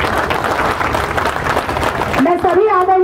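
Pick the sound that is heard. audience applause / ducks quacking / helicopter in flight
audience applause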